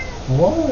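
A house cat meows once with a rising and falling call, close by, overlapping a man's brief spoken word indoors.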